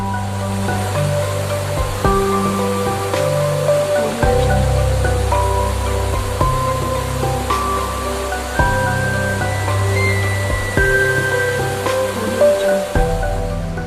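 The Sungai Kenas river, flowing down from Gunung Bubu, rushes steadily and loudly nearby, a dense continuous wash of water with no pauses and no voices.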